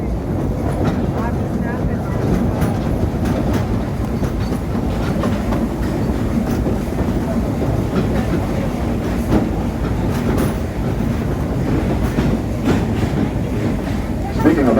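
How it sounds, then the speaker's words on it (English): Outlaw Run, a roller coaster built in 2013, rumbles along its track at a theme park, a continuous low rolling clatter with occasional clicks, heard from a moderate distance under a murmur of voices. "And to that right is our coaster called Outlaw Run."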